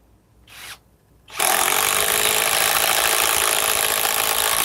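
A compact FX1331 impact driver rated at 1,700 inch-pounds runs on fasteners: a brief whir, a pause, then a loud continuous buzzing drive up close to the end, with no talk.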